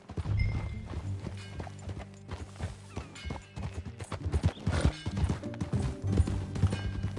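Horse hooves clip-clopping in an uneven rhythm while riding in Red Dead Redemption 2, close and fairly loud, with tack rattles and a faint snort mixed in.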